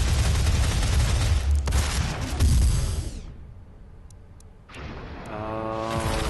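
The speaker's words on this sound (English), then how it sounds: "Rocket launcher." Rocket launcher fire in the Doom game, a loud sustained roar of blasts and booms that cuts off into near silence, then a fresh burst of noise rises again at the end.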